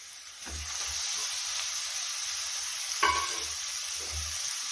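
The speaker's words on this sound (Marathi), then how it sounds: "तर आता टाकून घेऊया धुवून घेतलेला खिमा" Washed kheema (minced meat) sizzling and hissing steadily in a hot pan, with low scraping stir strokes and a brief louder splutter midway, close and continuous, no talk.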